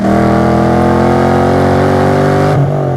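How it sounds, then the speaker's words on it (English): The 2015 Chevrolet Camaro Z28's LS7 V8 runs steadily with a loud, close, droning engine note, then drops in pitch and settles near the end as the revs fall. "the LS7, this engine, was introduced in 2006"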